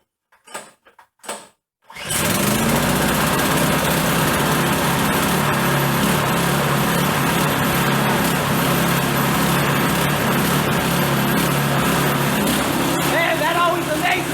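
A small go-kart engine fires up after a couple of pull-cord yanks, then settles into a loud, steady, close buzzing idle that runs on without a break; a voice is briefly heard at the start.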